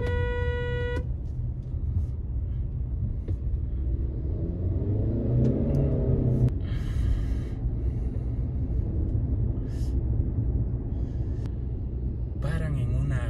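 Heavy weekday car traffic rumbles along a busy avenue on a Quito street, with a short horn toot at the start, engines revving and passing, and a couple of faint honks later, all under a continuous low road drone.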